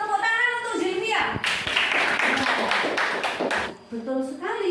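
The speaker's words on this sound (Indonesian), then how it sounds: "Tepuk tangan untuk Zilvia." A classroom of students claps for a classmate in a short burst of hand claps between a teacher's spoken lines, with voices before and after.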